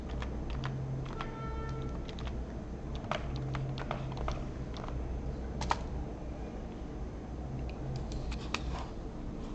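Fingers tap out a domain username and password on a computer keyboard, a quiet scattered run of clicky keystrokes over a faint steady room hum.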